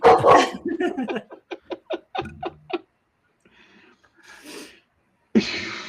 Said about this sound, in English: I'm holding this under my arm, so she's been barking too